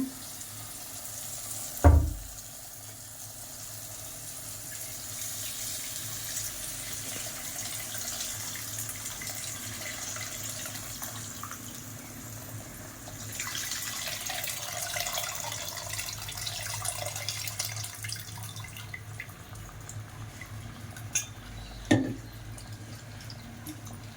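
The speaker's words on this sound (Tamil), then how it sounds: "புளி தண்ணி ஊற்றியாச்சு." Tamarind water dissolved with salt is poured into a fish curry pan, making a steady pouring and sizzling wash that runs for a long stretch, with a couple of sharp clanks near the start and end.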